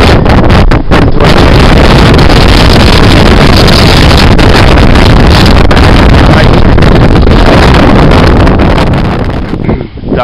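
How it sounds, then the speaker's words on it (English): Strong wind on a rocky, exposed section of the Pemigewasset Wilderness buffets the microphone in a loud, continuous roar that barely lets up, briefly easing near the end. "It's real windy up here."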